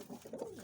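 A pet pigeon coos in soft, low, rounded murmurs, close and fairly quiet, in a steady run of throaty phrases with no talking.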